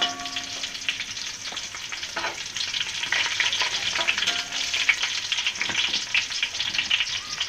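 Asafoetida drops into hot oil with garlic and curry leaves while cooking Maharashtrian katachi amti, producing a loud, continuous, crackling sizzle with spitting pops and occasional stirring clinks, close up and without talk.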